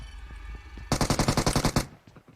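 A loud, close burst of roughly ten rapid automatic rifle shots rips out in quick rhythm in PUBG at Georgopol, stopping abruptly after under a second, with quiet ambience before and after.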